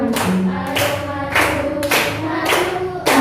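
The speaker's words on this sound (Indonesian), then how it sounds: "Tepuk tangan." Classroom group clapping hands in a rhythmic pattern of sharp bursts roughly every half second, close and moderately loud, with a faint voice briefly beneath.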